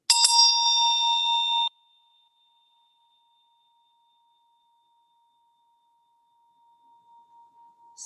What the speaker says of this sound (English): I ring this bell for those who have died and are dying of COVID-19.